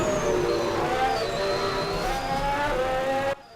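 Dork-powered M8 Mossad race car running on the Jerez circuit during preseason testing, a loud sustained engine howl with shifting pitch that cuts off abruptly at the end.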